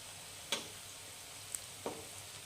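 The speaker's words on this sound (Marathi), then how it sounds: "टाकलेल्या तेलामध्ये जेवढे पकोडे बसतील तेवढे मी टाकून घेतलेत" Pakoras deep-frying in hot oil give a steady soft sizzle, broken by a few sharp ticks of a utensil against the pan.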